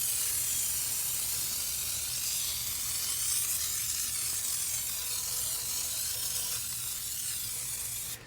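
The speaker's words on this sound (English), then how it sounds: "And we're going to spray it across the entire wheel." Foamed all-purpose tire cleaner sprayed across a car wheel, a steady close hiss of spray lasting several seconds with no talking over it.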